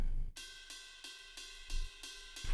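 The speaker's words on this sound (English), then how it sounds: "Here's our ride loop." A ride cymbal loop plays steady, evenly spaced pings with a ringing metallic shimmer, and soft low drum thumps underneath.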